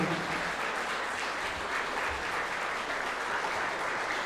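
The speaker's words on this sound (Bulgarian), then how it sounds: "Ръкопляскания, дами и господа, за феерията от музика, която чухме тази вечер" A gala concert audience breaks into sustained applause, a dense patter of many hands clapping at an even level from start to finish.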